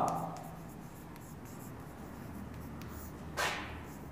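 Marker or chalk writing an answer on a classroom board during a Class 12 physics lesson on ray optics: soft, faint scratchy strokes over room hiss, with a brief louder scrape near the end.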